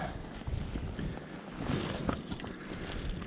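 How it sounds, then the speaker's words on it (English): Strong wind buffets the microphone outdoors beside a trout river during dry fly fishing, a steady low roar with gusty rumbling throughout and no speech. "that wind was just getting too strong"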